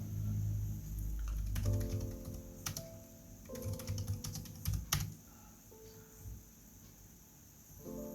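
Typing on a Samsung Chromebook 4 keyboard in the WPS app, close rapid key clicks in irregular bursts over a steady background hum, no talking.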